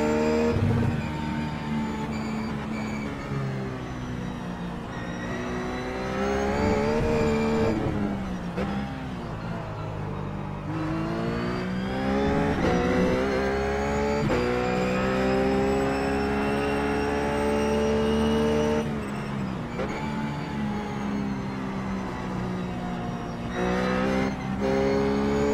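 A Ruf GT3 race car on the Sonoma circuit in iRacing sings loudly and steadily, its engine climbing through the gears with sharp drops on each shift and brief lifts into corners, with no talk over it.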